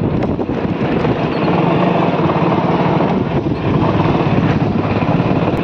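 A tractor engine runs loud and close, a continuous rumbling drone with some wind buffeting against the microphone and no break in the noise.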